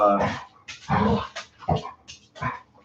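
A puppy whimpers and yips in several short, whiny bursts with gaps between them, close and moderately loud.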